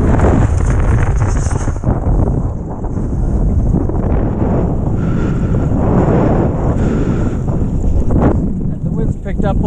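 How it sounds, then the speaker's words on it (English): Wind roaring over the water during wing foiling, loud constant buffeting across the microphone with splashing underneath and some talk. "The wind's picked up a little."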